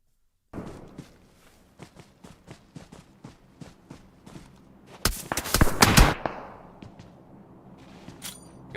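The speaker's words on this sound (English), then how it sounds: "Got some shots coming in from somewhere there. I heard some bullets land." Gunshots in PUBG Mobile arrive as a steady series of evenly spaced, fairly distant cracks, followed by a louder cluster of close impacts and bursts before fading back to quieter pops.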